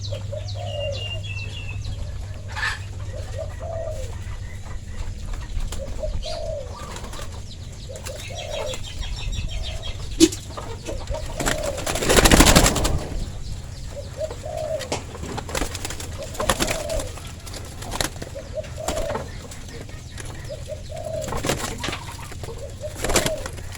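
Spotted dove cooing, steady repeated soft coo phrases at a regular rhythm, fairly close, with a brief burst of wing flapping midway over quiet outdoor background.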